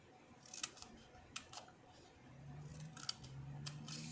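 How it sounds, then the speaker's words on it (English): Scissors snipping through cardstock toward a score line while making a mini truck candy holder, several short crisp cuts close by and fairly quiet, with a soft low rustle of paper handling toward the end. "you're going to cut all the way to the score line"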